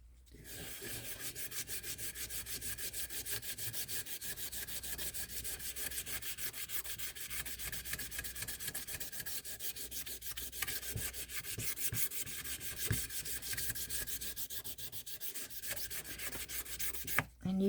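Sandpaper rubs steadily over a Mix2Mold statue in fast, even back-and-forth strokes, close and continuous with a dry scratchy texture throughout.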